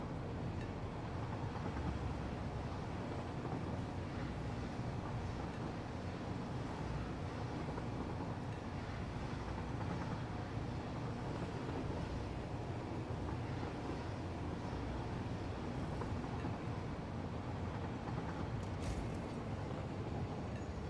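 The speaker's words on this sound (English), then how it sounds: "Gonna slow down the oil train." An oil train runs in the Satisfactory video game with a continuous low rumble and a broad rushing drone that hold at one level throughout, with no talk over them.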